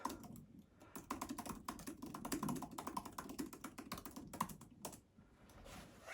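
Typing on the keys of an iPad Pro floating Magic Keyboard, a steady run of soft, quick clicks at close range with a brief pause near the end.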